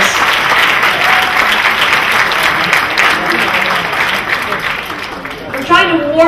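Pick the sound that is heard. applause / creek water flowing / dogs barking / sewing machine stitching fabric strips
applause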